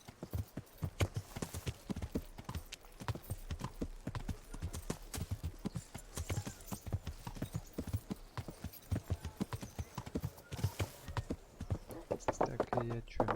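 Horse hooves clip-clopping in the video game Kingdom Come: a steady, fast trotting rhythm of hoof strikes running throughout, with someone talking over parts of it.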